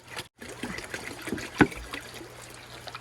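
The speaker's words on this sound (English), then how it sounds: "Let's fill up the water." Water trickles and pours into a jug for backyard chickens, a soft, close dribble with a brief splashy surge midway, set against faint outdoor background noise.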